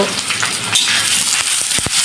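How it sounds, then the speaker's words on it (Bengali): Onions frying with a bay leaf in a hot pan, a loud steady sizzle and crackle up close, with a few sharp stirring clicks and taps near the end. "তেজপাতা ফোড়ন দিয়ে এর উপরে দিয়ে দিচ্ছি পেঁয়াজ ব্যাস পেঁয়াজ দিয়ে একটু হালকা করে ভেজে নেব"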